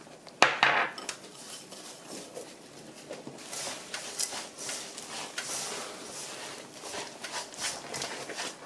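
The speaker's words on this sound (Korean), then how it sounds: "불을 끄고 준비된 들깨하고 땅콩을 넣어 보겠습니다" Perilla seeds and peanuts stirred into hot syrup in a pan with the heat off, giving a sharp clink near the start, then steady scraping and soft clattering at a moderate level, with no talking.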